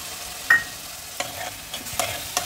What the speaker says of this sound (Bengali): এবার টমেটোটার সঙ্গে মশলাটা ভালোভাবে আমি কষবো যতক্ষণ না ভালোভাবে তেলটা ছেড়ে দেয় মশলা থেকে